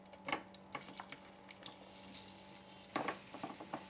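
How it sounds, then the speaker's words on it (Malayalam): Banana pieces frying in hot ghee in a pan, a soft, quiet sizzle with a few sharper splashy bursts near the start and again around three seconds, close and without talk. "നെയ്യ് ചൂടായതിന് ശേഷം പഴം അതിലേക്ക് ഇട്ട് കൊടുക്കുക."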